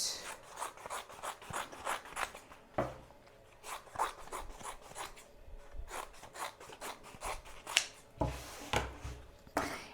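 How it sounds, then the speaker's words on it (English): Large scissors trim plastic sheeting with repeated crisp snipping and rasping cuts in quick succession, close up, with brief pauses between bursts and no voices. "I'm gonna just trim this down with my bigger scissors first"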